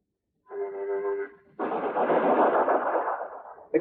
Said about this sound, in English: Explosions of this kind are used to model test magnetohydrodynamic processes occurring in compact plasma.